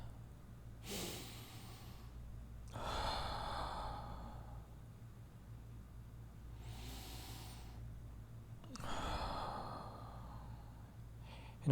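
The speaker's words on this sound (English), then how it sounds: "Take a breath." A person breathes deeply and slowly, with several long inhales and exhales spaced through a quiet room over a steady low hum.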